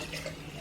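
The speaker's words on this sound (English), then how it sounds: "here's the juice poured into here" Carrot juice pours from a slow juicer into a container, a soft, brief trickle of liquid with no one speaking.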